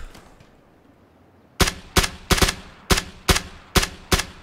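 Gunfire rings out in a PUBG-style shooter, with eight loud, sharp shots in a fairly even rhythm after a quiet start.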